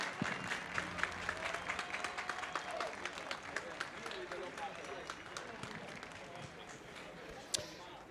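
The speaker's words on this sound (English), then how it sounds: "ladies and gentlemen, a massive round of applause for your two-wheeled heroes" Crowd applause for MotoGP riders at the Goodwood Festival of Speed, sustained clapping with scattered sharp claps, heard at moderate distance under steady background noise.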